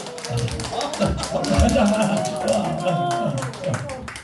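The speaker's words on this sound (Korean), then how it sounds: "회장님 박수 한번 좀 쳐줘요" Scattered hand clapping from a church congregation during a sermon, uneven and mixed with voices talking and calling out over it.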